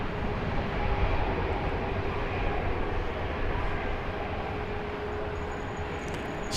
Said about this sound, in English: Spirit is headed to Las Vegas. Flight 268, an Airbus A320neo.